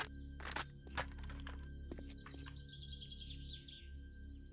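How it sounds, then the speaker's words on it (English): Birds chirping in the zombie survival game 7 Days to Die, short bright tweets scattered over a steady low ambient hum, with a few sharp footstep-like cracks in between. "I hear birds, you know?"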